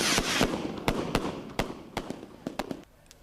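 Firecrackers and fireworks go off during Chinese New Year in Hong Kong, a string of sharp, loud cracks at irregular intervals with a faint crowd murmur underneath, heard from a short distance.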